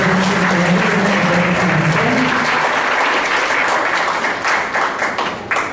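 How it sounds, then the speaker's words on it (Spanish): Welcoming applause from an audience at a psychology conference lecture, a dense, steady round of many hands clapping that runs throughout and thins slightly toward the end, with a brief voice underneath at the start. "Le pedimos un aplauso para la bienvenida."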